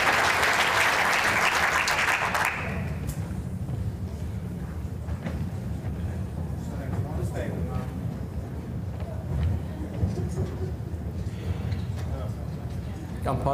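Applause from the crowd at an indoor bowls championship, a dense burst of clapping for the first two seconds that then fades to a low murmur of the audience and a commentator talking.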